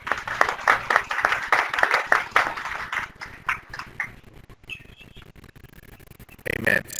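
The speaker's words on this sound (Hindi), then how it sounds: "जोर से ताली" Audience clapping at a religious gathering in Pakistan, a run of fairly loud, uneven claps that thin into scattered taps, with a short burst of sound near the end.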